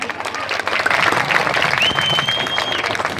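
An audience gives steady, dense applause at an outdoor comedy or concert gathering in Kozhikode, with a sustained whistle-like tone partway through.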